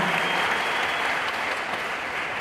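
A church congregation applauds in a loud, dense wash of clapping that holds steady and close for the whole stretch, slightly easing toward the end.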